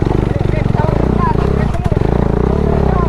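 A motorcycle struggles uphill on loose gravel with its rear wheel slipping, on a rough mountain route. The engine throbs loud and close, steady and labouring, with faint clatter throughout.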